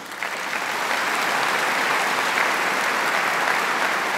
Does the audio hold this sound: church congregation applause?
yes